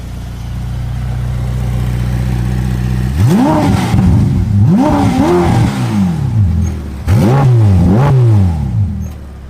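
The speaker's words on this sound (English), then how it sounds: "This is what the F8 Tributo sounds like." A 2020 Ferrari F8 Tributo engine idles low, then is revved sharply three times, each blip rising to a loud snarling peak and dropping back, close and powerful.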